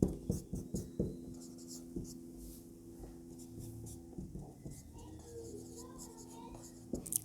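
Pen scratching out a maths solution on paper during a Class 11 set theory exercise, with soft irregular strokes and taps under a teacher's ongoing talk and background hum.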